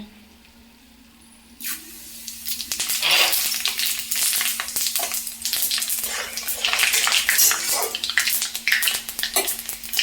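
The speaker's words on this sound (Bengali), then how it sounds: "আর এই তেলে এখন আমি দিয়ে দিব গোটা 5 ফোড়ন।" Whole five-spice seeds hit hot oil that was just used to fry rohu fish heads, setting off a loud, steady crackling sizzle after a quiet start, with no talking.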